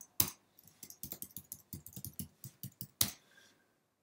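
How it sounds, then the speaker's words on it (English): Rapid keystrokes on a computer keyboard as a password is entered, an uneven run of close, crisp clicks bracketed by two louder strikes, with no talking. "I did indeed make a mistake in typing my password."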